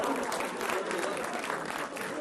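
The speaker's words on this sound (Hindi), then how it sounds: "अरे आप लोग ताली बजा रहे हैं" Studio audience applauding during a televised Hindi political debate, a dense continuous clatter of many hands that holds steady for the whole stretch, with a voice talking faintly over it.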